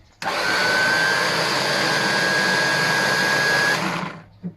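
An Oleo-Mac TR 111 electric trimmer, plugged into a socket, switches on abruptly and runs at a steady high-pitched motor whine for about three and a half seconds, then winds down. A small click follows.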